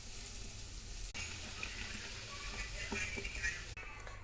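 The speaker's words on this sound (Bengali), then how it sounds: "কড়াইয়ে তেল রেখে দিয়েছি, আটাটা আমি এই যে বেলে নিয়েছি, তেল দিয়ে দিচ্ছি। এখন নলটা ভাজবো।" Rolled dough nan puri fries in hot oil in a wok, giving a quiet, continuous sizzling hiss with small crackles and a couple of soft clicks from handling, and no talking.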